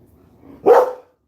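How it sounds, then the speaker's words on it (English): Jojo the dog lets out a single loud, close bark at activity outside the apartment, following a moment of near quiet. "If there's like activity outside the apartment, he has like he barks like it's the hiccups."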